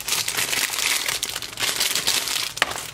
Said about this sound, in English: I'm taking them up out of the paper plastic